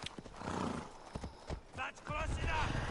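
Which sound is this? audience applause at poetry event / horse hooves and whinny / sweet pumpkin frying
horse hooves and whinny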